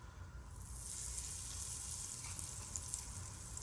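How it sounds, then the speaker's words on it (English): Battered chicken frying in hot oil gives a steady, fine crackling sizzle that swells slightly after the first second and holds evenly, faint and close with no talk. "That's a good sizzle."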